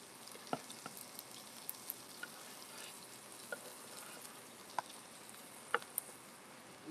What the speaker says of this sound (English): I'm gonna go ahead and get my eggplant stirred in.